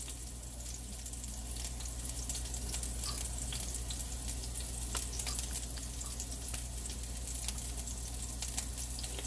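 Food frying in a pan on medium low heat, a steady soft sizzle with faint crackles and pops, quiet and continuous with no talking.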